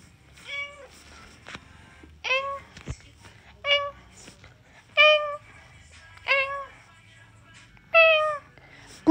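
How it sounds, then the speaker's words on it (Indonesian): A cat in heat gives a series of loud, drawn-out meows, about six separate calls spaced a second or two apart, close by over quiet indoor background. "Kucing birahi, kucing birahi."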